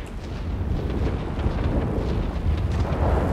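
Anti-aircraft flak guns firing in World of Warplanes: a dense, continuous rumble of overlapping low booms and bursts, loud and unbroken throughout.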